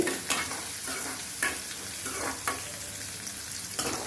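Sliced onions sizzle in hot oil in a pan for a Tirunelveli-style broken-egg curry, a steady close crackle broken by occasional stirring scrapes.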